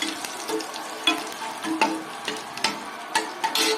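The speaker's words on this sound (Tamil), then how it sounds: "மூணு மிளகா வத்தல் கிள்ளினது கருவேப்பிலை எல்லாத்தையும் நான் இதில் தாளிக்கிறேன்" Crackling and popping of dried red chilies and curry leaves hitting hot oil, with sharp intermittent spits over a low steady sizzle, close by.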